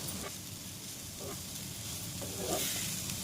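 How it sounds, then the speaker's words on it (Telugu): Chopped onion pieces sizzle steadily in a hot pan as a Telugu palak moong dal is cooked, a continuous close frying hiss with a few faint stirring scrapes and no voices. "ఈ ఉల్లిపాయ ముక్కలు కూడా ఒకసారి ఇలాగా వేయించేసుకోండి మొత్తాన్ని"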